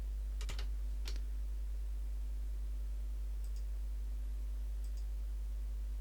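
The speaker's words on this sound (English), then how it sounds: "clicking away and building up a route." Computer mouse clicking at a desk while building a route on a map, a few sharp clicks early on and faint ticks later, over a low steady electrical hum.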